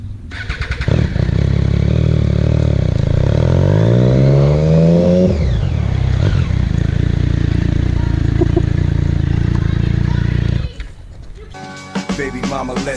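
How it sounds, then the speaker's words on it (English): A loud motorcycle engine revs up with rising pitch, then settles into a steady rumbling idle before cutting off near the end. "I'm not racing, it's a loud engine."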